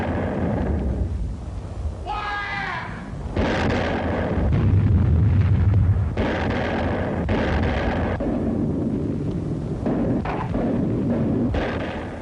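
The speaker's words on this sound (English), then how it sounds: "The crescendo of the howitzers prefaced each new attack." Howitzers fire during the battle on Palau near Bloody Nose Ridge, with heavy booming blasts one after another over a continuous loud, low rumble of battle.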